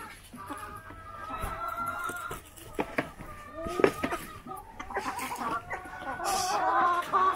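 Chickens, some of them recovering from illness, cluck and call at a coop at close range, with scattered bird sounds and some rustling under quiet background noise.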